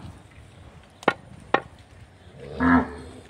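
A cow at a village cow shelter lets out a short low moo near the end, preceded by two sharp knocks, fairly close in a quiet outdoor setting.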